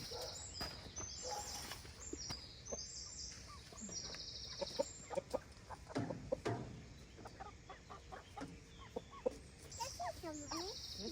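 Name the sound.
chickens clucking around the coop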